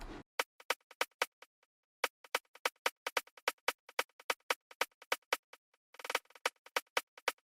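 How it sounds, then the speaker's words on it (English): A simple drill-beat hi-hat pattern, crisp bright ticks in a quick syncopated rhythm with occasional rapid rolls, looping steadily and dry with nothing else playing. "I started out by making a hi-hat pattern."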